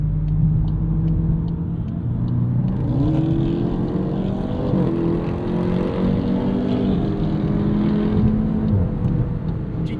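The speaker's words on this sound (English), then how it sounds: "We'll be quiet and listen to the Durango here." Dodge Durango Hellcat engine driving nearby, a steady loud rumble with rising and falling engine tones that climb and hold through the passage, heard alone from inside a Volkswagen Golf GTI.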